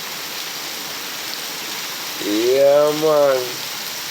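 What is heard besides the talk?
heavy rain falling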